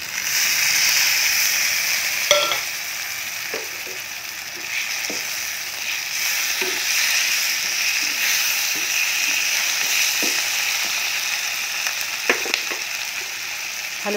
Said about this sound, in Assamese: এতিয়া কুটি থোৱা বিলাহীখিনি দি দিম।